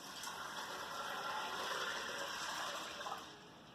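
Water pours steadily into an Instant Pot over dry beans, a continuous splashing gush close by that runs for several seconds and tapers off at the end, with no talking.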